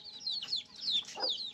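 Chickens cluck with short, chirpy calls repeated through the moment, moderately close, while being fed scraps of roti near their coop.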